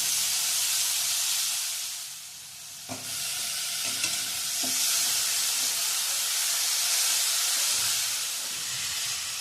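Grated, rinsed sweet potato goes into chillies in a hot pan for a fasting thali, releasing a loud, sustained steamy sizzle with a few clatters of stirring partway through.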